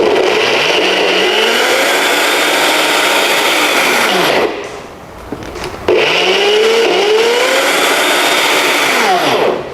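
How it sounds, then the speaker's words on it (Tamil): A mixer grinder grinds soft dates for an idli recipe with a loud, steady whirring roar, stopping briefly in the middle for about a second and a half before starting up again at full strength. "இப்போ இதையும் சேர்த்து அரைச்சிக்கலாம்."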